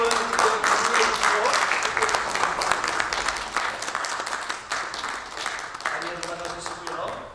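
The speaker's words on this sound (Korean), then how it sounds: "우리 큰 박수로 여러분" A church congregation applauding loudly and continuously during an ordination service, with music and a voice running beneath the clapping.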